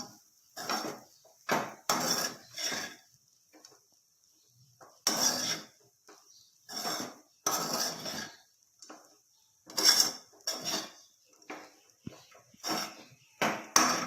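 Poha being stirred in a pan for a Jain breakfast dish, the spoon knocking and scraping against the metal in repeated short bursts with quiet pauses between them, close and fairly soft.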